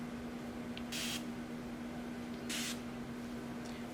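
Two short hissing bursts from a spray bottle onto microlocs, about a second and a half apart, over a steady electrical hum.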